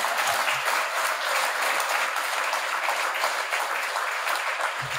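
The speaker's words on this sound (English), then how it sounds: "Let's give them all one final round of applause." Sustained applause from an audience at a community anniversary retrospective talk, a dense, even wash of many hands clapping throughout, fairly loud and steady with no talk over it.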